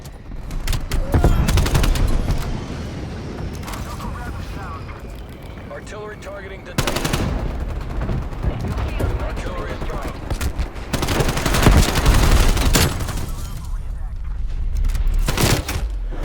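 Gunfire from the Call of Duty Black Ops Cold War video game with the EM2 rifle, loud bursts and rapid automatic volleys repeating throughout, mixed with explosion-like rumbles and game effects.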